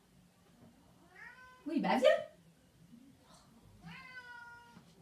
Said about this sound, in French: Je crois qu'il y a mon chat qui essaye de rentrer.